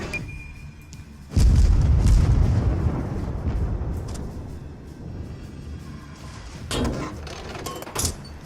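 Torpedo hits from an Umikaze destroyer in World of Warships land as a heavy deep boom that swells suddenly and rumbles down slowly, followed by a couple of lighter distant thuds and crackles near the end.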